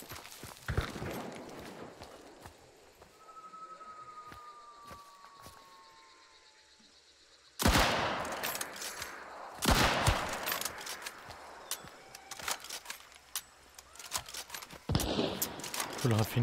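A Berthier sniper rifle fires in a video game, giving sharp, loud cracks among scattered other gunfire and running footsteps, with quieter stretches between the shots.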